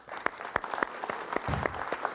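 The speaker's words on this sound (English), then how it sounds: "So let's give them a hand clap." A community forum audience claps for fire department staff: a short, fairly quiet burst of scattered, distinct handclaps from a modest crowd indoors.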